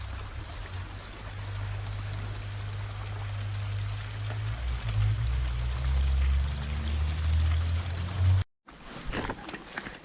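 A waterfall in a dense Sikkim forest gives a steady, broad rushing wash over a low rumble for about eight seconds, then cuts off abruptly to faint scattered rustles.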